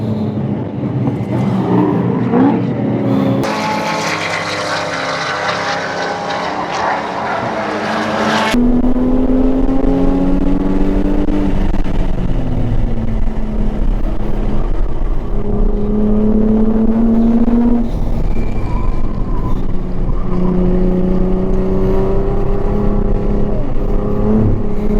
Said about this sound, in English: We'll let these cars pass.